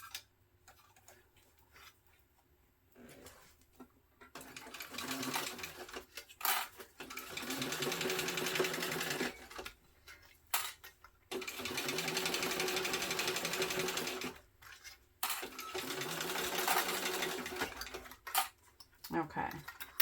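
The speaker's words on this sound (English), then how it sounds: "So I'm just basting right now. Basting at that 1/8 of an inch." A sewing machine basts backpack seams 1/8 inch from the edge, running in several sustained bursts separated by short pauses, with faint handling clicks and some talk between runs.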